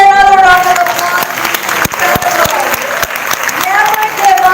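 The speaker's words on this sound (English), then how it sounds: "Why don't we give her another round of applause?" Seminar audience breaking into loud applause with a few distinct hand claps, mixed with cheering and excited voices, close and energetic throughout.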